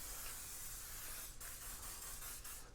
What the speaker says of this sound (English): I'm using cooking spray, and it always works fine.